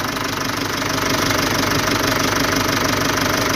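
A Mitsubishi 4D35 diesel engine running under overhaul, a steady close, loud clattering idle with a rapid knocking rhythm and constant vibration, no voices over it.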